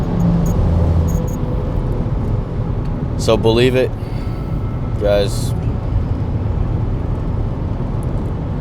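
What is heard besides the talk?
car driving on highway, road noise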